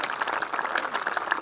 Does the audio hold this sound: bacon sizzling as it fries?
no